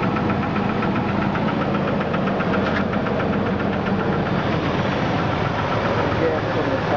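A Jeep engine idles close up with a steady rhythmic knocking tapping through its continuous low rumble, loud and unbroken throughout.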